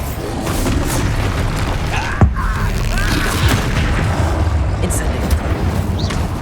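A Bombarda blasting spell explodes in the Hogwarts Legacy video game, a sharp boom landing about two seconds in over a dense bed of continuous combat rumble and effects.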